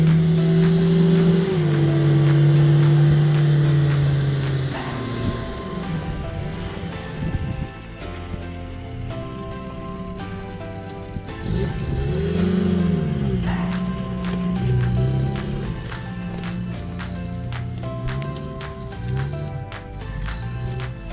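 A Datsun 620 pickup truck on bald road tyres drives off-road, its engine drone rising and falling with revs while bumps and rattles come and go over a long, fairly loud stretch.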